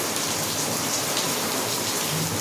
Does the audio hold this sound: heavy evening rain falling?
yes